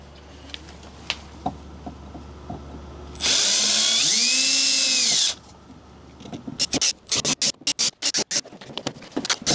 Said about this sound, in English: We're going to drill all these plastic rivets, and then we can pull the inner out.